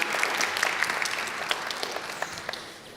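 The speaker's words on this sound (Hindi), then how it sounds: "अनुषा के लिए तालियां हो जाएं" A studio audience claps for Anoushey in a talk-show setting, producing dense, sustained applause with sharper individual claps standing out, slowly thinning toward the end.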